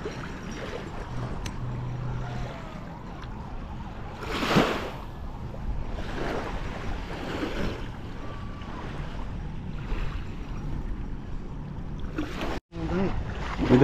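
Sea waves at a beach in Subic make a steady, rolling wash of surf with a few louder swells, while people talk nearby over the water noise.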